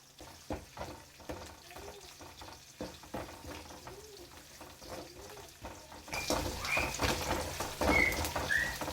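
Crushed garlic and one or two dried red chillies frying in oil, a soft sizzle under light stirring and utensil scrapes, turning louder and hissier in the last few seconds.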